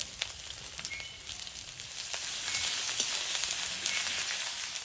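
Panch phoron spices, bay leaf and ginger sizzle steadily in hot oil in a kadai, a dense bright hiss that swells louder midway with small crackling pops, alone without talk.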